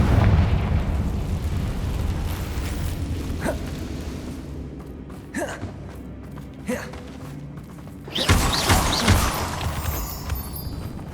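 A fire spell explosion in Hogwarts Legacy, a whooshing burst with a rumbling tail that swells near the end over a low ambient game soundscape, plus a few sharp hits in between.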